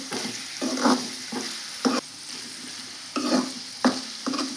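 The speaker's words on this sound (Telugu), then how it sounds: "ఇవి ఇవైతే బాగా ఫ్రై అయినాయి కదా బీన్స్ ముక్కలు" Chopped beans stir-fried in a pan with curry leaves, the spatula scraping in repeated rhythmic strokes over a steady sizzle, close and clear with no talk.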